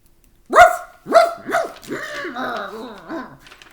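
A voice imitates a dog: several sharp barks in quick succession, then a rough, growling snarl trailing off.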